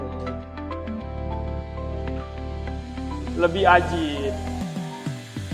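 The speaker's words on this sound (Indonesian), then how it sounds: "Kalau itu suara welcome sound-nya." A Chery J6 electric SUV plays its welcome chime while being unlocked with an NFC card: a sustained, melodic electronic tone swelling through a bright rising flourish before cutting off, with a short spoken remark over it.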